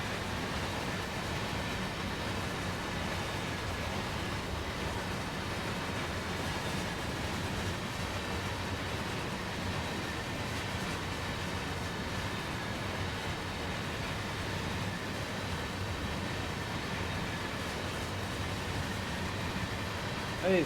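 A long container freight train rumbles past in the Train Sim World 6 rail simulator, a steady, even roar of rolling wagons holding at the same level the whole time with no clear start or end.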